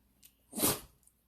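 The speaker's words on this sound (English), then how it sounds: "Everyone hear Harry's little sneeze" A single small, soft sneeze from a dog, brief and quiet, in an otherwise still room.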